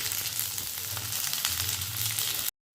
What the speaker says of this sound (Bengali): এগুলো এখন ভালো করে লাল লাল করে কিন্তু আমি এখন ভাজবো